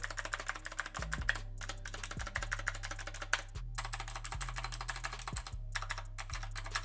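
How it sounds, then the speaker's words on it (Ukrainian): Rapid clicky mechanical keyboard typing on an AULA keyboard, close and crisp, with bursts of keystrokes broken by brief pauses and a low hum underneath. "Прикольно вона клікає, прикольно тайпиться, якщо ти любиш такий звук."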